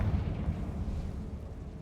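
A Confringo fire spell bursts in Hogwarts Legacy, a low rumbling blast that swells at the start and rolls on as a continuous booming roar, loud and close, with no voices over it.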